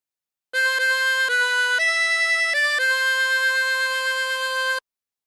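A 24-hole tremolo harmonica plays a short phrase of Aura Lee, a few sustained reedy notes with a wavering shimmer that step up and down in pitch, loud and close with no talking.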